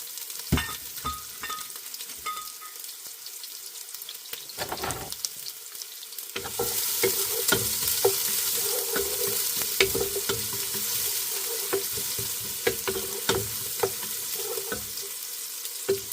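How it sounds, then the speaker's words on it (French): Onion hits hot rapeseed and olive oil and sizzles up loudly about halfway through, a sustained close hiss with spatula scrapes, after quieter clinks and knocks. "Je fais revenir l'oignon."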